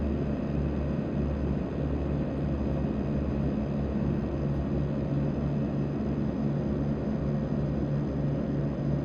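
DHC-6-300 Twin Otter in FSX flight simulator pushing back from the gate, a steady droning turboprop engine rumble that stays constant and fairly loud throughout with no voices.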